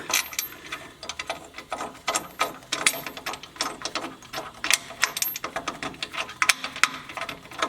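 Rapid ratchet clicks in repeated bursts as a bolt is tightened on a Jeep Gladiator long arm suspension kit, close and fairly loud, with no talking.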